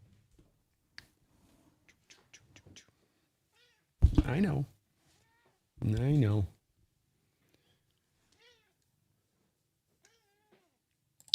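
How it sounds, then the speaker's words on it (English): A cat meows twice in close succession, loud and near, with faint speech before it and quiet room sound afterward. "Kitty cat."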